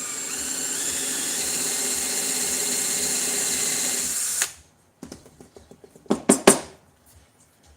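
A power drill bores into wood, a loud steady whine that cuts off abruptly, followed by a few sharp knocks and rattles of the tool and workpiece.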